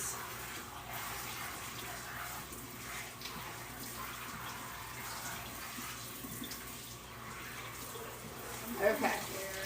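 Tie-dyed fabric is rinsed under a steadily running tap, a continuous moderate splash and gurgle of water with a slightly louder slosh near the end.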